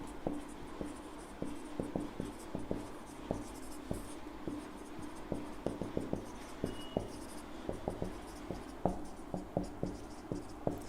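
A pen writes out a trigonometry solution on paper, with steady close scratching strokes and frequent light taps between words, continuous and soft, with no talking.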